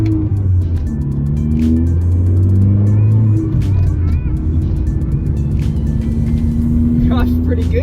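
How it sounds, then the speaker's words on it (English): A 2006 Ford Fiesta on a test drive, heard from inside the cabin, with a loud, steady engine drone whose pitch climbs and drops through the gears over constant road noise. "Here we go, first test drive."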